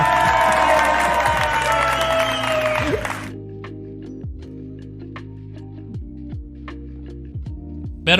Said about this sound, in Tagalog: Kiniklik ko na yung palakpak ko.